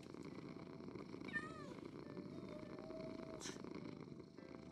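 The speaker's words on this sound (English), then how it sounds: "Oh, it's really a purring cat!" A cat purrs in the Minecraft video game as a soft, low continuous rumble, with a few brief higher chirps and game noises layered over it.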